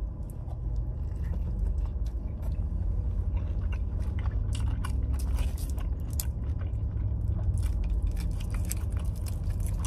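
Steak and shrimp with extra pico de gallo being chewed right up close, a steady, loud stream of wet bites and crunches with no talking over it.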